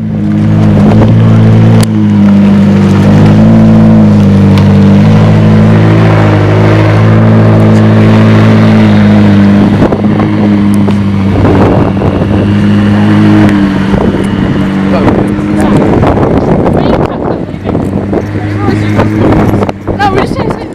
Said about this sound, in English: Was the McLaren 675 LT Spider.